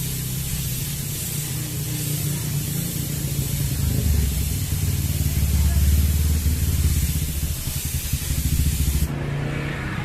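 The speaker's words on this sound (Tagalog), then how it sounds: "So malayo lang ang spray gun." A spray gun lays a thin mist coat of black paint, giving a steady loud hiss that runs unbroken for about nine seconds and then cuts off.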